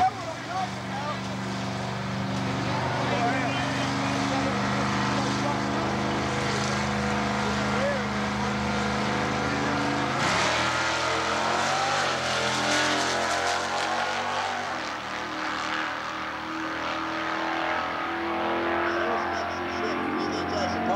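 A Ford Cobra Jet Super Stock drag race car at the 1992 Atlanta Division 2 event, its engine holding a steady, loud drone throughout while a commentator talks over it.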